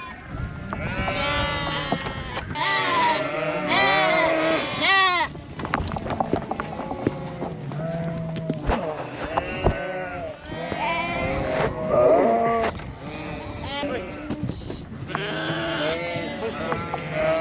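Crowded pen of lambs being weaned on a sheep farm, bleating loudly and continuously in overlapping calls, with people talking and calling out to the animals throughout.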